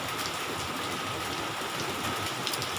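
Heavy rain pours in a steady, dense hiss at close range, with no break and no voices.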